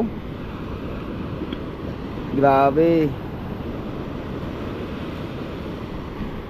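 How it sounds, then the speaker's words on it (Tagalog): Rough, broad ocean wave and wind noise from big waves rolls on steadily, with a brief voice exclaiming over it midway. "Kaya nga ang lalaki ng alon."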